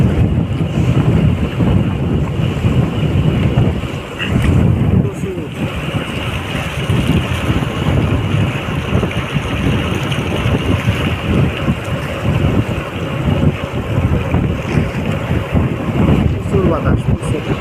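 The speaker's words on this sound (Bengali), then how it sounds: "প্রচুর বাতাস" Strong wind sweeps across open salty sea water in the Sundarbans mangrove forest, buffeting loudly and continuously for the whole stretch, with waves and a boat's rumble underneath.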